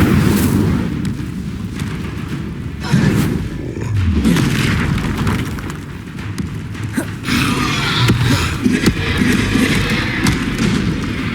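Spell explosions from the Hogwarts Legacy video game: a dense run of heavy booms and blasts that follow one another closely and stay loud throughout, with no talking.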